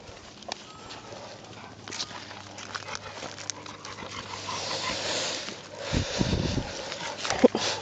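A Cane Corso puppy pants softly in quick breaths nearby, with faint shuffling and a few louder rustles toward the end.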